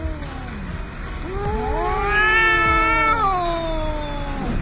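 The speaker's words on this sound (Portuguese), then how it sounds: "os dois felinos são adultos e estão miando, rosnando e fazendo outros sons" Two adult cats squaring off before a fight, trading long, rising and falling yowls and low growls, close and loud, with no talking.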